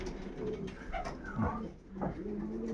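Pigeons coo in low, throaty burbles inside a pigeon loft, several birds overlapping close by in the enclosed space with soft rustling between calls.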